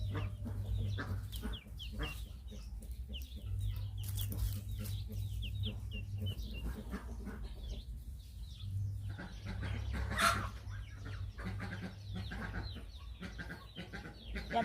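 Chickens cluck repeatedly in a rural Lao yard at a vegetable plot in Savannakhet, calls close and frequent over a steady low hum throughout.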